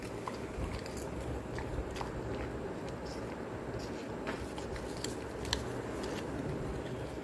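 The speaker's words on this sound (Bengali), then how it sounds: "হ্যাঁ কুত্তা আছে তেজপাতা খায়, মানুষই খায় না, সে কুত্তাই তেজপাতা খাচ্ছে।" A Labrador chews a bay leaf, giving steady close crunching and crackling bites under a dense, hissy background.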